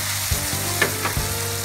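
Pork dinuguan bubbles and sizzles in a pot, a close, steady crackling simmer with a few soft pops and stirring knocks.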